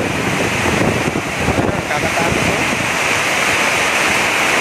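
Heavy typhoon rain and gusting wind roar steadily and loudly close to the microphone, a dense unbroken wash of noise with buffeting gusts, and a voice briefly speaks over it.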